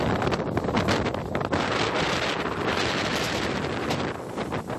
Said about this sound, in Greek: Ο αέρας βογκά στο μικρό λιμάνι των Αντικυθύρων και τα κύματα, τα οποία υψώνονται σαν βουνά, καταπίνουν αφρισμένα τον μόλο